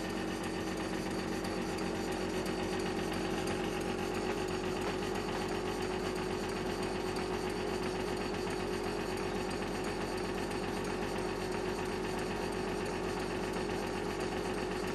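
A small model engine with a flywheel runs on test, producing a continuous, even buzzing drone that holds steady throughout with no speech.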